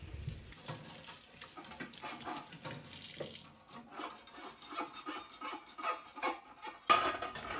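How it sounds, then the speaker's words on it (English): Milking machine tubes from a Hantop milking machine are rinsed under running water and scrubbed through with a long brush, giving close, steady splashing and rubbing with clinks of parts and a louder knock near the end. "everything just gets a thorough rinse and a scrub through with the big long snaky"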